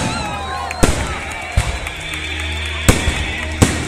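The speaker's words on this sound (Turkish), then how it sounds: "Koy Azerbaycan semasında biz bayram ateşleşlerimizi görelim" Festive fireworks burst during an Armed Forces Day celebration in a city park, with several sharp, loud bangs spaced a second or so apart over a steady crowd murmur and a sustained tonal hum.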